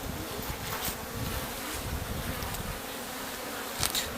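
Honey bees buzz steadily around a new hive one week after a captured swarm settled in, a dense close hum of many insects with occasional louder passes near the end.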